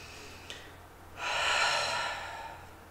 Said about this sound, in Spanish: A medida que vamos respirando, nos vamos ya calmando.